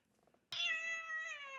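A cat gives one clear, drawn-out meow that starts abruptly after a quiet moment and holds close and steady for about a second.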